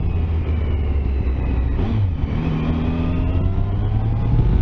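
A Triumph Tiger Sport motorcycle accelerating, its engine a loud continuous drone whose pitch climbs steadily through the gears, heard close and sustained with wind rumble and no talking.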